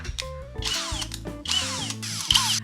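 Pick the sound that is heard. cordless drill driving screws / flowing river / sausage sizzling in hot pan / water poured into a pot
cordless drill driving screws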